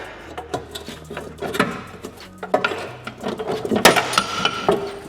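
Pry bar levering a long-fitted shock absorber off a Defender 90 during a lift kit install: loud close clanks, creaks and metallic knocks in irregular bursts, without talk.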